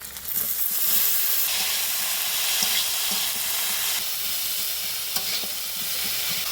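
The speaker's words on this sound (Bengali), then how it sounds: "দেখো বন্ধুরা, মোচার তরকারিটা রান্না হচ্ছে" Banana flower curry with potato, drumstick and shrimp simmers in a pan, giving a steady broadband sizzle and hiss with occasional soft stirring clicks, close and continuous throughout.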